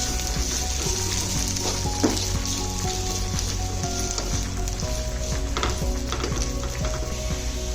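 Sliced onions and vegetables fry in a hot pan for noodles, giving a steady close sizzle with scattered clicks and scrapes of stirring throughout.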